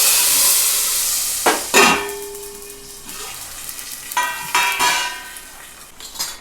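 Gujarati dry-fruit kadhi tempering with asafoetida in hot oil, then the kadhi poured in and stirred: steady close sizzle with a few sharp spoon-on-pot clinks and scrapes, no talking.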